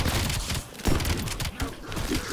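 Shotgun blasts in Call of Duty: Black Ops Cold War land as several heavy, punchy reports in quick succession amid busy gameplay noise, with someone speaking excitedly over them.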